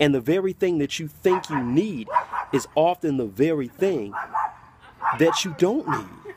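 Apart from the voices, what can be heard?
dog barking in the background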